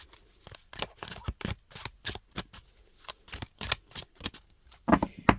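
Dream of Nile tarot cards are shuffled by hand at close range, a rapid series of crisp, slippery riffles and soft slaps repeating unevenly with brief pauses between bursts.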